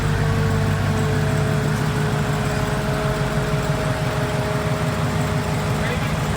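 A Dodge Challenger Hellcat Redeye engine, making 797 horsepower, runs loudly and steadily at close range, a continuous deep rumble with a droning hum that never lets up.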